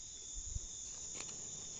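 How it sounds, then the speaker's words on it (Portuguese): Crickets chirp at night outdoors around a bonfire, a faint steady high-pitched trill running throughout with a few soft low bumps beneath it. "Só dá pra ouvir os grilos."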